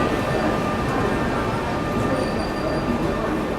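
A Shatabdi Express hauled by a Ghaziabad-shed WAP-5 electric locomotive pulls into a large station, giving a loud, continuous rumble of rolling wheels and carriages, with faint high squeals over the din.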